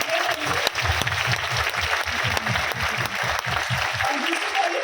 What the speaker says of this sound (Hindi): एक बार सबसे पहले तो निखिलेश झा जी के लिए एक बार जोरदार तालियां हो जाए।